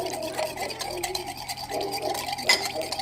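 Ingredients for Azorean heat sliders being stirred together in a bowl, giving a wet, squelchy, continuous mixing sound up close, with some talking over it.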